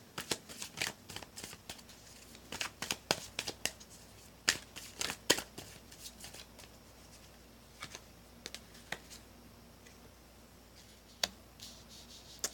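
Tarot cards being shuffled by hand make irregular bursts of crisp flicks and riffles, close and fairly quiet, bunched at the start and spreading into occasional taps later, with no speech.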